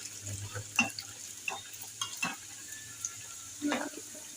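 Qeema kachori frying in hot oil, giving a low steady sizzle broken by several sharp utensil clinks and scrapes, close but fairly quiet.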